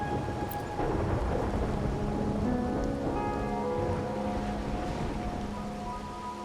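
Steady rain with rolling thunder on a rainy night in a video game, a continuous broad wash with low rumbles and faint tonal music lines running through, loud and close throughout without speech.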